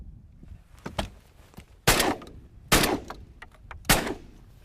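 Shotgun with a three-shot capacity fired while duck hunting: three sharp, loud blasts spaced about a second apart, each trailing off with a short outdoor echo over faint background noise.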